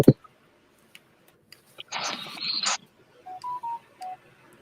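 A cell phone goes off during a livestream tabletop game session: a short electronic chirp burst, then a few brief tonal beeps, faint and isolated in an otherwise quiet room.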